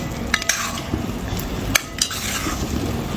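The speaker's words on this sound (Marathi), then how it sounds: "असं तेल सुटेपर्यंत परतून घ्यायचं आपल्याला." Masala sautéing in oil for a vegetable korma, stirred in a pan until the oil separates: close, continuous scraping and light clinks of the spoon against the pan over a low sizzle, without any talk.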